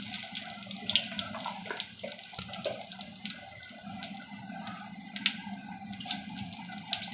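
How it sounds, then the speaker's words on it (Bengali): Bay leaves and cumin seeds sizzle in hot oil in a pan, giving a soft, steady crackle with scattered brighter pops and no talking. "ফোড়নটাকে একটু ভেজে নিচ্ছি।"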